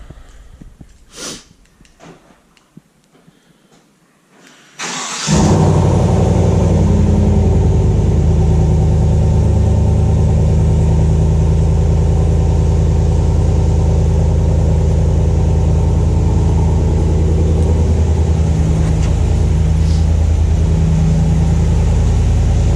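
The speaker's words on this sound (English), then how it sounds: "It's a lot louder during the cold start, which is what you're hearing now" A 2019 GMC Sierra AT4 pickup with modified exhaust bursts into life on a cold start after a few seconds of quiet rustling, then settles into a loud, steady, rumbling idle that continues throughout.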